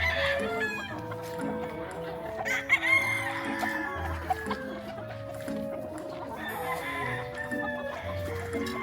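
Chickens clucking and squawking nearby on a gamefowl farm, with a rooster's crow rising among the flock and birds chattering throughout.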